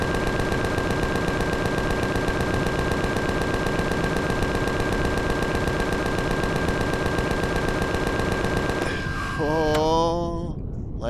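Sustained rapid automatic gunfire in the sci-fi survival game Empyrion Galactic Survival, loud and continuous for most of the clip before breaking into a warbling electronic tail near the end.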